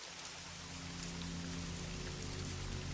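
Rain falls steadily in a dense, even hiss with a faint low hum underneath, constant and uninterrupted.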